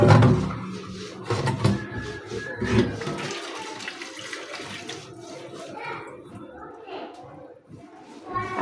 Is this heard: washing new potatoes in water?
yes